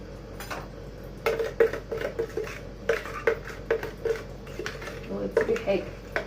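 Cake batter for a hot milk sponge cake is poured from a bowl with help of a spoon, giving repeated close clinks and scrapes of spoon on bowl alongside soft talk.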